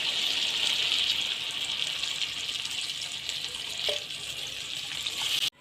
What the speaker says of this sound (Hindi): अब हम इसमें पानी ऐड करते हैं।